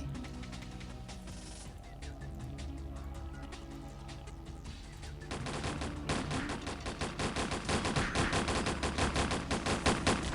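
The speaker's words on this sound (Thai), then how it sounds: "เดี๋ยวผมจะใช้ปืนคู่ยิงก่อนนะครับ ว่าเป็นยังไง" Dual guns fire in the video game Ragnarok Online, rapid repeated gunshots that build into a dense, steady fusillade in the second half, with no speech.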